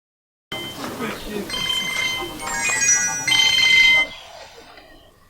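A telephone rings with a bright repeating electronic ringtone for several seconds, growing louder over a soft background before it cuts off abruptly.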